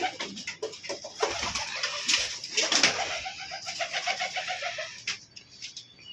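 Pigeons coo close by in a loft where birds are kept for sale, with repeated soft throaty rolling calls, some overlapping, mixed with faint chirps and rustling.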